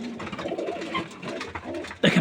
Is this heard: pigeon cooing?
yes